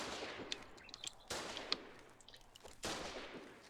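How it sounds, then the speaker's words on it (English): Gunfire in the war game Foxhole: a few sharp reports crack out at intervals, separated by lighter scattered pops and a soft background hiss, fairly faint overall. "His buddy is shooting me, though."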